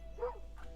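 Puppy in the video game Moonlighter giving a short, mid-pitched yip or bark, a single brief call standing alone over a low steady hum, with a fainter second sound trailing after.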